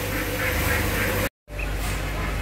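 Pekin ducks of the Grimaud Frere line on a duck farm quack loudly and continuously at close range, with a brief cut to silence partway through and quieter quacking after.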